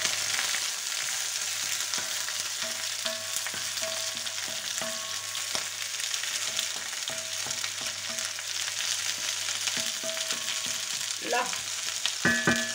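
Homemade paella sizzles and fries steadily in its pan, a constant close crackle with small bubbling pops; a brief word of speech comes near the end.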